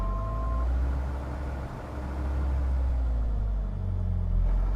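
Diamond DA-42 twin aircraft engines at takeoff power in a flight simulator game, a steady throaty low drone with rumbling texture, loud and continuous.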